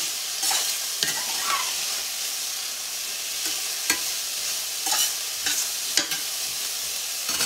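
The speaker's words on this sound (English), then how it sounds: "Let that saute for a minute." Vegetables sauté in a skillet with a steady, loud sizzle, broken by a few sharp spoon scrapes and clicks as they are stirred, up close with no talking.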